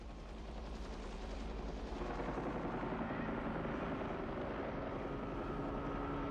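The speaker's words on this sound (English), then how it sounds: "I'll just put this helicopter right next to you" A helicopter roars close by, a dense, steady rotor and engine drone with rapid beating that swells slightly and holds at high volume throughout.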